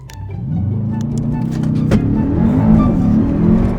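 A Brabus-tuned Mercedes E63S wagon accelerates hard from a rolling start in a street race, its engine note climbing steadily and loud throughout with a brief sharp transient midway.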